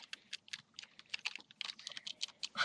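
Fingers clatter on a computer keyboard in quick, uneven bursts of keystrokes, close and clear, with no one speaking.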